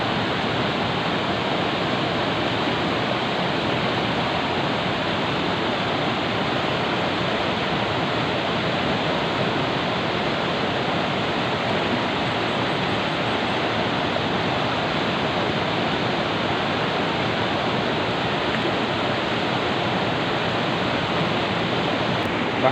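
Steady rushing water of a river in Sawang, North Aceh, flows continuously, a dense broadband wash with no pauses, close and fairly loud, no voices.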